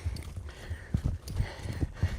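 A horse walks on firm ground during a groundwork session with a trainer, hooves landing in a steady, clear clip-clop of several close, moderately loud footfalls with no talking over them.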